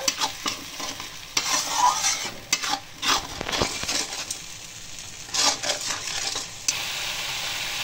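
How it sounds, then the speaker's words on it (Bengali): Spice paste stirred and fried in a pan while making mustard hilsa curry, with steady scraping strokes of a spoon against the pan over a continuous soft sizzle, close up and without talk. "এবার আমি নাড়াচাড়া করে দিচ্ছি, মশলাটাকে ভাজা করব"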